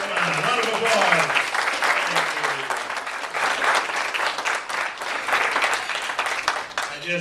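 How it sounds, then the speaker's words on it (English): Wedding guests applaud steadily throughout, a dense, sustained round of clapping with voices mixed in and a few cheers rising above it. "come on, round of applause"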